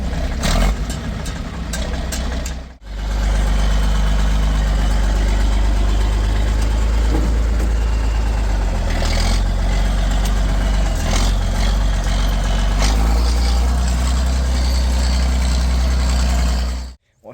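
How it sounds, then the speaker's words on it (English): A John Deere 4630 tractor with a straight pipe exhaust idles loud and close, a steady low rumble that cuts out briefly near the start and then runs on unbroken to the end. "John Deere 4630 straight pipe."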